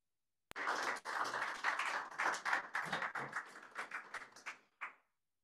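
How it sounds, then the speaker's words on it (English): Audience applause at the close of a web performance meetup talk, many hands clapping in a dense, uneven patter that thins into scattered claps and stops after about five seconds, with no voices. "I hope you heard the end of the clapping"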